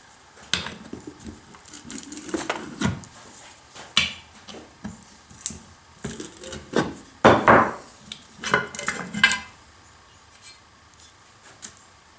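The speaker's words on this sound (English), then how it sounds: "We'll take a screwdriver and gently pry around, and then this bottom should pop right off." A screwdriver scrapes and pries around the tabbed bottom pan of a Tuff Torq K46 transaxle on a Husqvarna riding lawnmower, with intermittent metallic scratching, rubbing and clicking bursts, close and moderately loud, alone.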